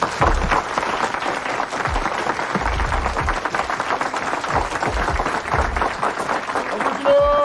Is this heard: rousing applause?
yes